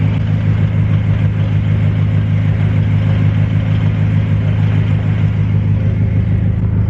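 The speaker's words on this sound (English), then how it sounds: "the car does have clutch rattle" Idling BMW F10 M5 with clutch rattle: a loud, steady low engine rumble with a constant rough drone throughout, no voices.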